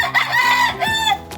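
Young gamefowl stags and chickens on a farm crow and cluck in close, overlapping bursts, a rooster-like call rising clearly above softer fowl sounds.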